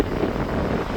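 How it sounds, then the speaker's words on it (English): Low, rumbling winter wind in Northumberland buffets the microphone in a brief, continuous gust, muffled and close. "It's 8:50 on the 21st of December, the shortest day of the year, and it's windy"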